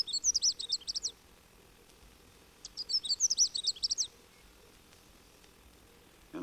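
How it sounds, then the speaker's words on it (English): Two short, jumbled warbling phrases of high, rapid Canada warbler notes, clear against a quiet background with a pause between them. "Canada warblers likewise stay here, calling witchet to witchet."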